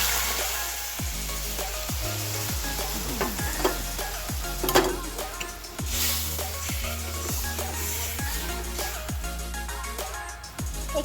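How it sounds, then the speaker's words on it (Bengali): Spice paste sizzles in hot oil in a kadai while a spoon stirs it, steady frying hiss punctuated by regular scraping strokes, close and continuous. "এবার এই মশলাটা তেলের মধ্যে দিতে হবে।"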